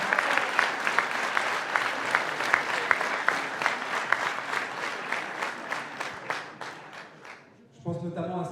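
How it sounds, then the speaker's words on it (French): Steady applause from a crowd at a mayoral speech in Montesson, France, many hands clapping with some sharp individual claps standing out, before it fades and a voice begins speaking. "Je pense qu'on peut applaudir aussi"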